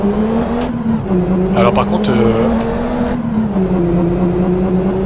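A car in a driving video game cruising and accelerating, its engine droning loud and steady throughout with brief squeal-like bursts, while someone talks over it in French.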